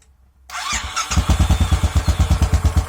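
A GT 535 motorcycle fitted with a K&N filter starts after a short quiet moment and settles into a loud, steady, rapidly pulsing idle close by.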